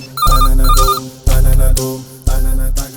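A telephone ringtone with loud electronic ringing, three bursts separated by short gaps, close and clear with no talk.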